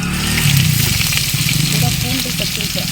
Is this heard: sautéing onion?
yes